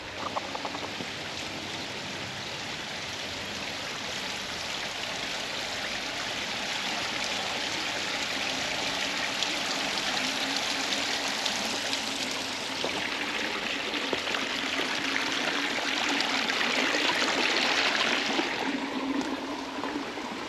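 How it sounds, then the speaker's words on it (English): Water trickles steadily through a large garden water feature, a continuous close splashing and bubbling wash that swells slightly toward the end, with no voices over it. "the trickle of the water"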